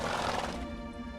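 A horse whinnies in the video game The Witcher 3, a single loud, close neigh that tapers off within about a second.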